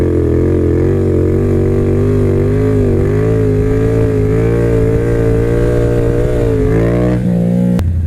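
A motorcycle engine holds a loud, steady drone with slight rises in pitch during a staggered stand-up wheelie, close to the microphone for about eight seconds before throttling back near the end.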